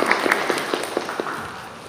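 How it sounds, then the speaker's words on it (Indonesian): Brief clapping from a small group of students in a school group-counselling session, a few distinct claps fading over about two seconds. "Boleh tepuk tangan."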